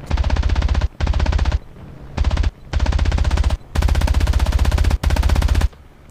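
Aircraft machine-gun fire in a War Thunder Mobile air battle: several long, loud sustained bursts separated by short pauses, with no talk.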